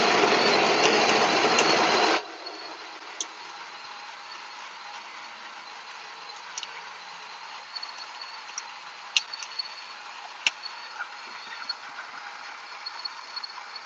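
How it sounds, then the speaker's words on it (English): A Breville Barista Express grinder single-dosing coffee beans gives a loud, close, whirring grind for about two seconds, then cuts off, leaving a faint hum with occasional tiny ticks. "Once you grinding is finished, we're gonna spin for another second or so."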